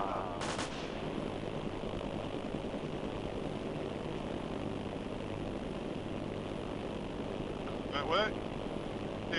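Simulated enemy gunfire in a military training simulator: short crackling bursts near the start and again near the end, set against a constant low engine-like drone, fairly faint, with voices faintly present.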